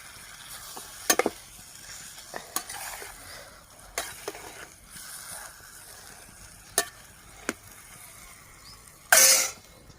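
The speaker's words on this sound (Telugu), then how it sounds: "సాల్ట్, టమాటాస్ మగ్గడానికి ఇంకొక స్పూన్, పసుపు సాల్ట్ వేసుకున్నాం కదా. బాగా తిప్పుతున్నాం చూడండి." Tomatoes with salt and turmeric sizzling in a pan for village-style egg curry, with a spoon stirring and scraping against the pan in scattered sharp clicks over a soft steady fry and one louder clatter near the end.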